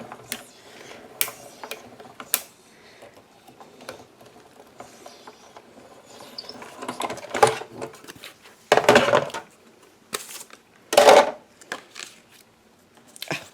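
A hand-cranked hot foil machine feeds a card through with scattered mechanical clicks and ratcheting, building to several louder grinding bursts toward the end, heard up close without talk.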